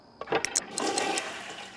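A toilet flushing in The Sims 3 video game, a short burst of rushing water with a few bright splashy clicks at the start, then a steady swirling drain that fades out.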